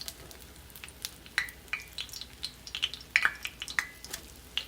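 Southern hoe cakes fry in a pan. A soft, steady sizzle sits under scattered sharp pops and crackles, with a couple of light scraping clicks close by.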